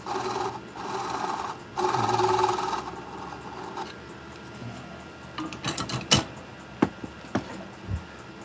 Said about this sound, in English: Here we're just using the parting tool.